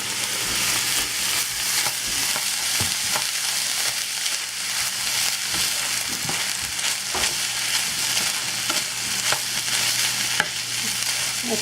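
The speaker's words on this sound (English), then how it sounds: "it's time to add the garlic and our onions. I'm gonna cook that for 3 to 5 minutes until it's fragrant." Garlic and onions fry with chicken in a pan over medium-high heat, a steady loud sizzle running throughout with the scrape and clatter of stirring.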